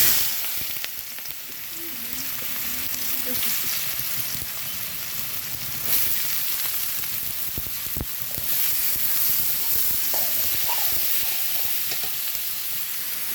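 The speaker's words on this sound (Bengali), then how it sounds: "আমি ডিমটা খুব মনোযোগ সহকারে রান্না করছিলাম" Home-raised duck eggs fry in a pan with a steady, close sizzle and hiss running throughout, with faint stirring and kitchen clatter in the background.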